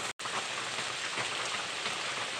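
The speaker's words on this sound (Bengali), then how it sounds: "দেখছেন কি পরিমাণ বাইরে বৃষ্টি হইতেছে" Heavy rain falls outside in a dense, steady hiss, with close drops pattering on surfaces throughout and one very brief dropout near the start, with no talk.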